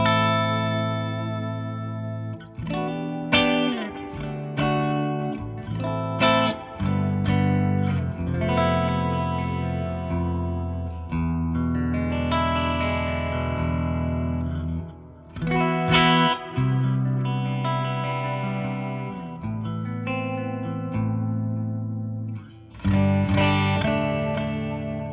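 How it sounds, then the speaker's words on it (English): Mayones Aquila Elite S electric guitar played clean on pickup position 2, a glassy, sweet tone with chords and single notes ringing out in phrases, close and steady with light effects shimmer. "Position 2, this is where we get the really sweet clean tones now."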